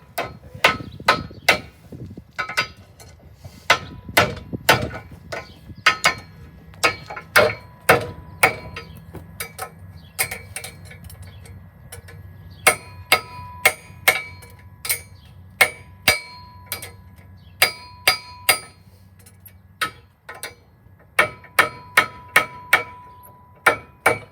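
Sharp metallic hammer strikes ring out one after another on a farm during farrier work, in short irregular bursts with brief pauses, close and loud.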